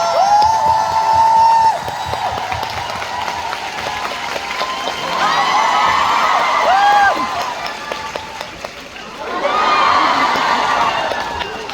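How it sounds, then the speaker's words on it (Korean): A concert audience applauds with scattered clapping, rising into bursts of cheering and excited shouts, some high voices standing out, continuing for several seconds. "다시 한번 큰 박수 부탁드립니다"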